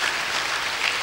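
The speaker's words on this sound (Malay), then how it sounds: "Ini beri tepukan kepada mereka." Brief burst of audience clapping at a UKM student transformation program, a short steady patter at moderate loudness.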